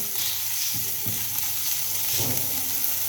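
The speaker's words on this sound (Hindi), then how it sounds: "लहसुन और अदरक को लाइट ब्राउन करेंगे।" Garlic and ginger frying to light brown in a pan, a steady close sizzle with a few soft stirring knocks, moderately loud and uninterrupted by speech.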